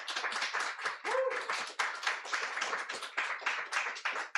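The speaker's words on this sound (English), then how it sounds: "Everyone, please give a round of applause for Maxwell Suzuki." An audience at a book launch in Los Angeles claps in a brisk burst of scattered applause from a small crowd, close and lively, with a brief vocal sound partway through.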